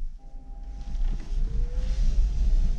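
A Dacia Spring electric car pulls away on an off-road track, giving a quiet motor whine and rising tone over low rumble of tires on rough ground, steady and fairly close with no talking.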